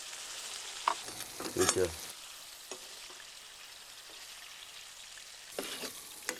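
Tomato tossed in a pan for chicken curry gives a soft background sizzle broken by a few sharp clattering stirs and scrapes, with a brief word spoken.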